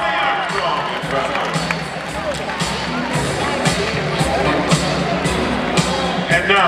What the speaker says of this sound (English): How about a nice round of applause for Westside Tony Armstrong?